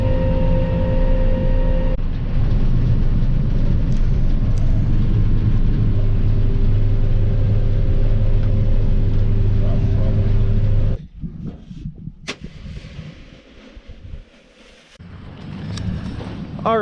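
A vehicle drives toward the co-op during milo harvest, its engine rumble and road noise loud and steady until it drops sharply near the end, as if slowing or stopping.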